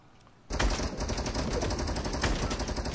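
After a brief quiet moment, a triple scope assault rifle in Fortnite opens up with loud, sustained rapid fire that continues steadily to the end.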